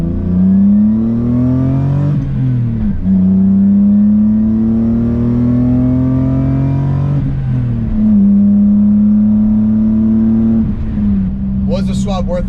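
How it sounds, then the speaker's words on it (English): A BMW E30 fitted with a swapped M50 engine drones steadily and loudly, its pitch climbing and settling in repeated gentle surges, with someone talking over it. "M50 in, just the smooth idle, the quiet motor."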